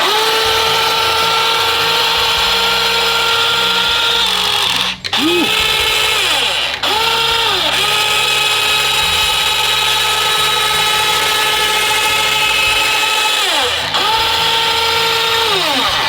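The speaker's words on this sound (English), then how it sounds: "Okay, so the turret is super noisy." A small electric turret motor on a 1/16 scale Mitsuwa RC T-34-85 tank whirs loudly and steadily, pitch dipping briefly at a few points as it stops and restarts, with a faint mechanical buzz underneath.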